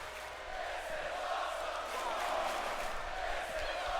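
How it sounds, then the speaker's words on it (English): Wrestling event crowd roaring and cheering after a spear move, a dense sustained wall of voices from a large audience, steady and loud throughout. "And you hear this crowd."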